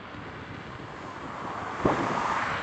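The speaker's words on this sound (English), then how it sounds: "A bit windy." Outdoor wind buffets the microphone in a steady, loud rumbling roar that swells slightly near the end, with no voices.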